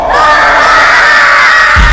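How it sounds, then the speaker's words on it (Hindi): Spirits shriek in a dense, sustained wall of high screaming voices for a horror story effect, loud and unbroken, ending with a sudden low rumble. "यह आवाज सुनते ही सारी आत्माएं चीखने लगी"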